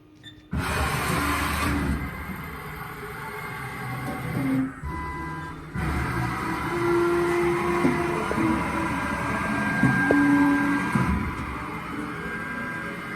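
A Haas CNC mill jogs its Z axis up to home, giving a steady mechanical whir with servo tones that rise and fall over a workshop hum, with no talk.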